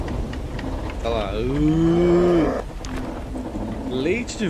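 A cow grub, the beetle cow from the video game Tails of Iron, gives a long, loud lowing moo that swells and bends in pitch before a quieter second call, with low background ambience.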